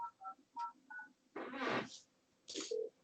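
Touch-tone keypad beeps as a phone number is dialed on a telephone, five short evenly spaced dual-tone presses, followed by a burst of louder noise and a brief steady tone.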